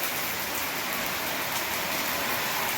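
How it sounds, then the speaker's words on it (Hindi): Heavy rain pours steadily in a village, a dense continuous hiss of drops hitting surfaces, loud and close with no voices over it. "आखिरकार बारिश आ गई। काफ़ी तेज पड़ रही"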